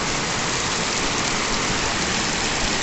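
Heavy, steady rain pours down in the Himalayas, a dense, loud hiss with no break or variation and no voices.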